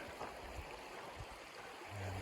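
Water rushes steadily in a creek along a hiking route in Capitol Reef National Park's Sulphur Creek, a faint continuous burble heard alone.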